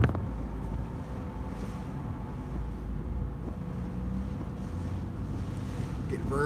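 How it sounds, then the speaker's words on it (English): Strong onshore storm winds in Key Largo buffet the microphone with a steady, low roaring rush that stays fairly subdued and unbroken throughout. "as the band came through Key Largo, still ongoing as these very strong onshore winds"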